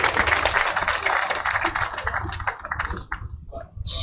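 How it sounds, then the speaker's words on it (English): Applause from an audience at the commissioning of an emergency gas power plant in Maiduguri, a dense burst of many hands clapping that fades in the last second. "I think he deserves another round of applause"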